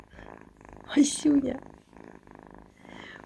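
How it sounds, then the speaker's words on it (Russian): A house cat purring softly up close, a low steady rumble that runs under someone speaking briefly in Russian. "Слушайте, как она мурчит."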